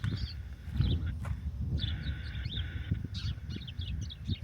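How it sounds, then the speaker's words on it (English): Small birds chirp and tweet in short, high bursts over a low background rumble, several calls scattered across a few seconds. "And I think there are birds in here somewhere"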